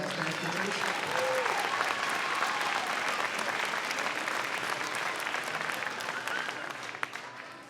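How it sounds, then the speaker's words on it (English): Steady applause from an audience at an elementary school beginning band concert, dense clapping filling the room for several seconds before tapering slightly at the end. "let's give them a big round of applause for their support as band teachers."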